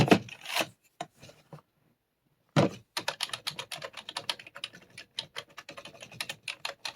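Fingers type on a cheap Surf Onn membrane keyboard, giving soft, rapid clicky taps close up after a few scattered keystrokes and a short pause, with no voices.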